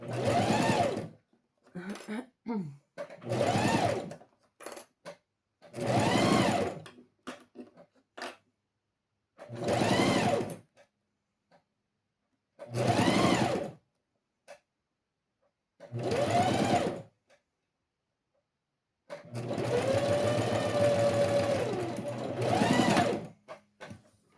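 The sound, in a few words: sewing machine stitching a safety seam on a zippered pencil case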